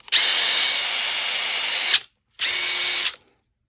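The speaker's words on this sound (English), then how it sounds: "Sounds just like the way the motor winds up when I actually have a DeWalt battery on here." DeWalt DCF850 compact impact driver running on a CEENR universal 20V battery, its motor whining loudly at high speed for about two seconds, then stopping and running again briefly, close up.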